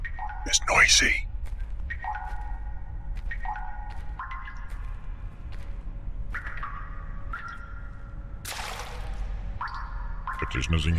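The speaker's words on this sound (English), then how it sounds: "Water is noisy." Water drips in the stealth horror video game Stifled, with scattered soft drips and ringing tonal echoes over a quiet, low ambient hum.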